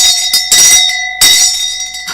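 A bell is rung twice in a newspaper review broadcast, each strike bright and ringing with sustained tonal overtones, the second beginning partway through as the first fades; no talking.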